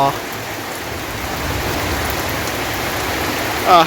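Heavy rain pours steadily on a misty hillside village morning, a dense, even roar of drops on surfaces that stays loud and close throughout, with no talking.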